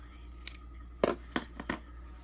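Scissors snipping fabric for a fabric rose tie-back, four short crisp cuts in quick succession, close and fairly quiet with no speech.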